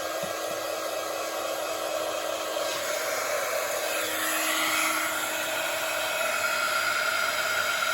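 A loud, steady heat embossing gun hisses and whirs continuously at close range, a constant airy roar with no talking.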